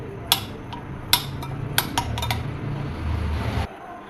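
A spoon stirs spice powder and salt in a bowl, clinking sharply against the sides a few times before scraping steadily through the mixture, close and fairly loud, and then stops abruptly.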